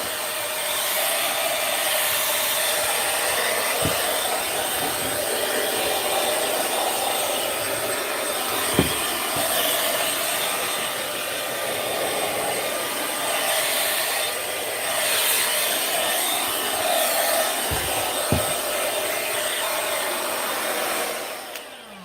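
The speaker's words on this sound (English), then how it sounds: "This might get a little loud for a second. I'm just gonna blow some dust off of it." A loud, steady rush of air blows dust off a wooden case for about twenty seconds, with a few sharp knocks scattered through it.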